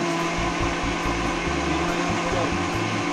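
A blender whirs loudly and continuously as it mixes spicy sauce ingredients, including apple, its motor pitch stepping and wobbling as the contents churn, with a voice speaking over it.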